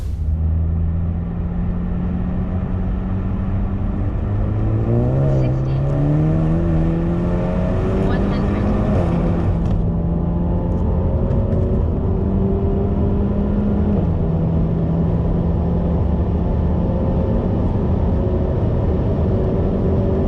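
A stage 2 tuned Renault Megane Mk4 accelerates hard through the gears from 100 to 200 km/h, pitch climbing and dropping with each shift, a steady close-up in-cabin roar throughout.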